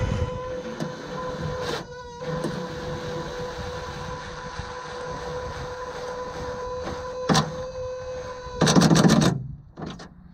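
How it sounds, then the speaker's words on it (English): An impact wrench drives the bolts of an APR GTC-300 wing into a 2016 Subaru STI in short rattling bursts, the longest near the end, over a steady background hum. "just running them in lightly with the impact"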